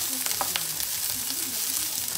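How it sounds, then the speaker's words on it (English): Sausages sizzling steadily in a hot pan, a continuous crackling hiss with occasional louder pops, close up. "Listen to that sizzle."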